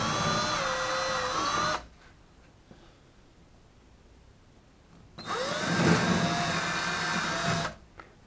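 A power drill drives screws into wall anchors while track shelving is mounted on a wall: two steady whining runs, each about two seconds long, separated by a quiet pause, close and fairly loud.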